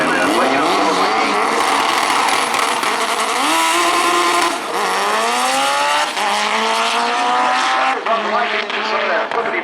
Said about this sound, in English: some of that flippity-floppity tire shake. And rolling out of it on a big end